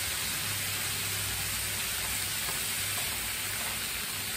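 Food stir-fries in a hot pan, giving a steady, even sizzle and hiss that runs unbroken at moderate loudness.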